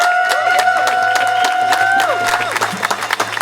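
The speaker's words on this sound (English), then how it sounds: "Please give her a round of applause." A crowd at a San Francisco community rally applauds and cheers as a speaker is welcomed, dense clapping over a sustained whistle-like tone and hum, thinning into separate claps toward the end.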